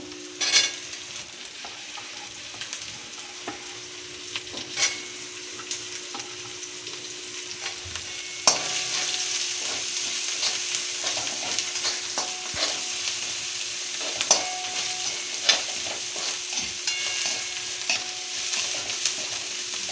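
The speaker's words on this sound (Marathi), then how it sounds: "थोडंसं छान परतून झाले आपलं गाजर." Carrot and onion stir-frying in a pan for homemade hakka noodles, a steady sizzle with frequent spatula scrapes and taps, growing louder and denser partway through, close and continuous with no talking.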